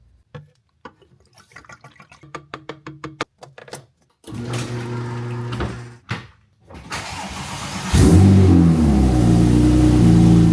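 A Porsche 997 Turbo engine cranks with sputtering bursts, then catches and idles loudly up close, settling into a steady running rumble that grows louder near the end.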